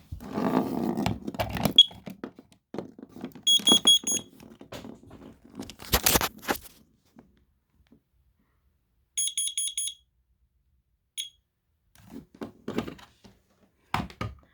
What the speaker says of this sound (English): Some smoke alarms are kind of weird.